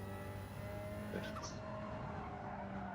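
In Gran Turismo 7, a racing car's engine drones steadily and faintly while a brief tire squeal and skid cuts in midway.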